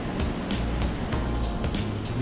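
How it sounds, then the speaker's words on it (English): Chunchi Falls, a large waterfall near Bangalore, roars as a steady broadband rush of water, close and fairly loud, with brief hissy bursts recurring over the continuous wash. "Waterfall seems to be really huge here."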